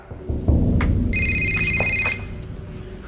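A phone rings with a bright electronic trill, one burst lasting about a second over a low rumbling background, then cutting off.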